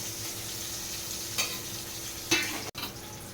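Onions frying in hot leftover oil for a bitter gourd masala curry, a quiet steady sizzle with a couple of brief stirring scrapes and one sharp click, close and without talk.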